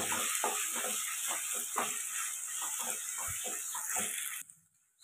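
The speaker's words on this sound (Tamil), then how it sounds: "இப்போ வடித்த இந்த சாதம் 1 கப் சாதத்தை இதில் போட்டுக்கலாம். போட்டு இந்த நெய்யோடு சேர்த்து அதை வதக்கலாம்." Cooked rice tossed in ghee in a pan for sweet pongal, a soft close sizzle broken by irregular stirring scrapes, cutting off abruptly near the end.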